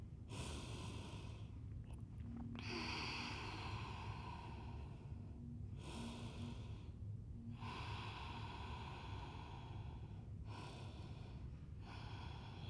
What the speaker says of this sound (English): Calm, smooth breathing.